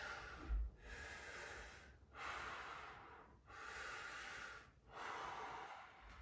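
Deep, slow breaths during a fascial squat with knees bent and the head turned back, three long broadband exhalations separated by short quiet gaps, close and steady, with no talking.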